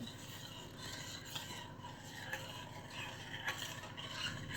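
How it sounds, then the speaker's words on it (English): A spoon stirs ingredients together in a bowl for orange cinnamon pull-apart bread, a faint steady scraping and clinking in a quiet kitchen. "I better stir it up a little bit"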